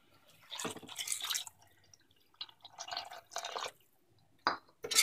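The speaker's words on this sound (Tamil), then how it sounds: "இப்போ நம்ம தண்ணி ஆட் பண்ணிக்கலாம்." Water is poured into a pot of goat trotters and masala for mutton paya, heard as close splashing and trickling in a few separate pours with quiet gaps, the last burst loud and abrupt; nobody speaks.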